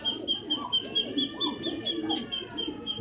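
Pigeons of an old-line breed coo softly and repeatedly in a loft, with low murmuring calls overlapping steadily throughout and no voices.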